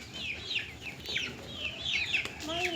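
Chickens kept at a rented house in Assam cluck in short repeated bursts, fairly close and clear over a soft background hum.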